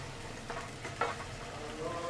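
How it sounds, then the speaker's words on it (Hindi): Beef and lentil dal gosht fries in oil in a pot, a soft steady sizzle with a few scraping stirs of a spoon, quiet and close, and no talking. "इसकी तब तक भुनाई करनी है जब तक सही तरह ऊपर तेल ना आ जाए।"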